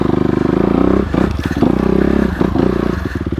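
Low-gear engine of a 2020 Honda CRF250RX dirt bike crawling along a trail in first gear, a steady close, loud putter with small throttle swells and occasional clatter throughout.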